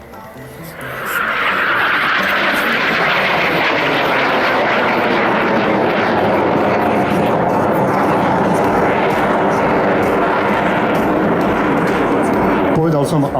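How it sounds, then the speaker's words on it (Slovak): A twin-engine Albatros aircraft roars past close by, its engine noise swelling within the first second and then holding loud and steady, with someone speaking over it. "ale zvláštnosťou u tohoto lietadla je to, že má dva motory"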